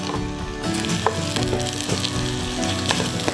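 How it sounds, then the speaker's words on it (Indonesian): Onions stir-frying in a pan with dried spice paste for Singapore-style spicy shrimp, a steady loud sizzle with scraping stirs running throughout and no talking. "Dan kita tumis lagi sebentar sampai harum"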